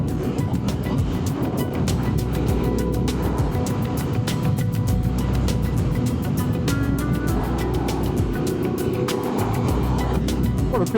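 Ducati Multistrada adventure motorcycle riding on an afternoon road, a steady continuous engine and wind rush running throughout without talk.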